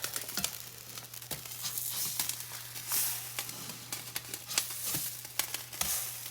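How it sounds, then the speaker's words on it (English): Atayef pancakes cooking on a hot pan, a soft continuous sizzle with a low hum beneath and scattered taps and scrapes as a spatula flips them. "Flip our pancakes here."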